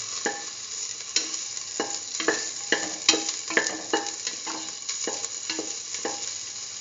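Shallots and garlic frying in a pan for a Hausa rice dish, soft steady sizzle broken by regular scraping stirs, close and fairly quiet.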